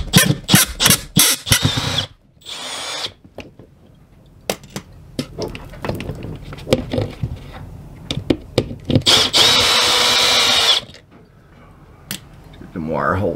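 A power drill whirs in short bursts and one longer run while screws are backed out of the motor and gearbox of a BAL Accu-slide room slide-out mounted on a wall, with clatter and handling noises and occasional talk.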